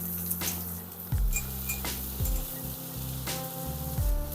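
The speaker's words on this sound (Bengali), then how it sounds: "এই অবস্থায় পেঁয়াজগুলো দিয়ে দিচ্ছি" Onions frying in oil with bay leaf, cinnamon and cardamom for a dried-fish dish: a soft, continuous sizzle broken by a few brief stirring knocks and bursts.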